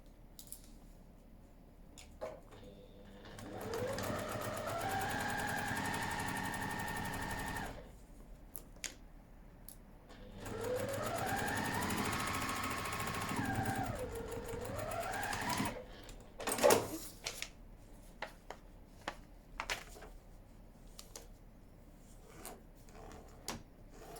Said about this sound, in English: stitch the line between A3 and A4